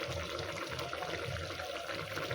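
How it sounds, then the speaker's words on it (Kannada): Water boiling in a pot for mushroom biryani, a steady low bubbling churn that holds evenly throughout at moderate level with no talk. "ಈ ಥರ ಕುದೀತಾ ಇತ್ತು"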